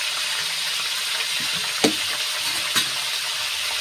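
Whole spices (cardamom, cinnamon, cloves and cumin) sizzle steadily in hot oil for a Bihari-style chicken masala, a loud continuous hiss with a couple of sharp pops and clinks of stirring.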